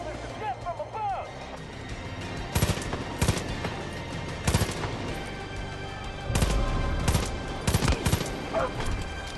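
Far Cry 5 aerial strafing fire, with repeated loud bursts of machine-gun fire in clusters amid engine drone, while a voice shouts over the gunfire.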